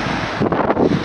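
Strong wind buffets the microphone in loud, rumbling gusts, roaring continuously without pause.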